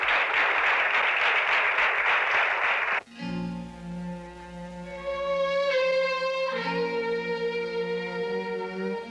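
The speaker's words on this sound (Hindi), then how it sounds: "तालियां।" A burst of loud, steady applause for about three seconds, which cuts off abruptly and gives way to sustained instrumental music.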